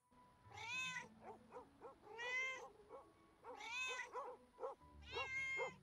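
Cat in the video game Pets Hotel meowing four times in a row, each a clear, drawn-out, fairly close meow with short pauses between, over quiet background.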